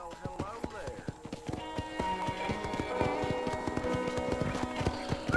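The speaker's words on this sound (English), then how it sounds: "Horses." Horses clip-clopping around a ranch corral in the Red Dead Redemption video game, steady overlapping hoofbeats close by with a faint whinny, under a continuous game music and ambience bed.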